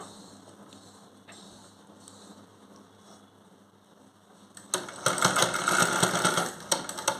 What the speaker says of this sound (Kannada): ಒಂದು ರಫ್ ಸ್ಟಿಚ್ ಹಾಕ್ಕೊಂಡು ಸ್ಟಿಚಸನ್ನು ಕಂಟಿನ್ಯೂ ಮಾಡಿ